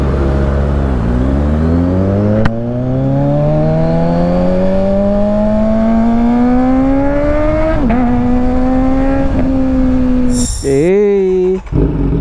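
A Kawasaki Ninja 1000 SX big bike engine pulls steadily while riding, its tone rising smoothly through the gears with brief dips at shifts, loud and close, then a sharp rev and quick drop near the end.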